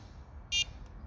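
A Sonik SKX fishing bite alarm gives one short, sharp electronic beep, loud and close against a quiet background.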